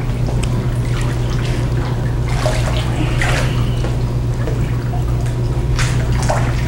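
Water sloshes and splashes faintly as a foam wonderboard is pushed under the surface in a therapy pool, irregular gurgles over a steady low hum of pool machinery.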